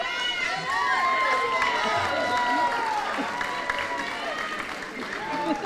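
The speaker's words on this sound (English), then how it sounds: "Clap it up, people!" Cheering and clapping from an audience at a middle school honor society induction ceremony. Loud, excited voices and whistles ride over steady clapping throughout.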